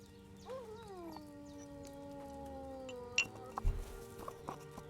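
Dog howling in a game scene, a long wavering whine-like howl that slides down in pitch and holds under light background sounds, followed by a few faint clinks.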